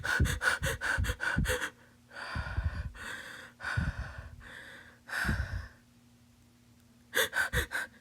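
A person's voice imitates Cheyne-Stokes breathing: a burst of quick, rhythmic breaths, then slower, drawn-out breaths, then a pause, and the quick breathing starts again, close and alone.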